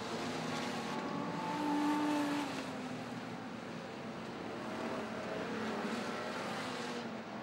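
Street stock race cars lapping at Sydney Speedway, a dirt oval, during an A-main, with a steady blended engine roar from several cars at middle distance that swells briefly around the two-second mark.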